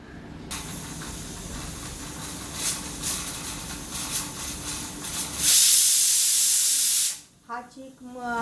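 A pressure cooker on a medium gas flame releases a loud, steady burst of hissing steam that rises sharply and holds for about two seconds, then cuts off, over a background of constant kitchen noise.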